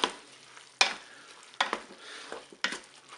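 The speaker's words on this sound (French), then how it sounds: "Je mélange." Spaghetti, chicken and artichokes with lemon juice being stirred in a Cookeo pot, four distinct scraping sweeps of a utensil over a quiet sizzle, close and moderately loud, with no talk.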